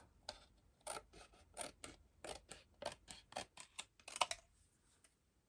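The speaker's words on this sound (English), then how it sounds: "I just want to cut some thin strips" Scissors snip through thin card in a rapid series of about a dozen crisp, close cuts, quiet and alone, with irregular spacing between strokes.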